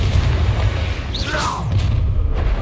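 In Hogwarts Legacy, a Confringo fire spell bursts with a heavy booming rumble, followed by a brief whooshing sweep from the blast, all loud and close.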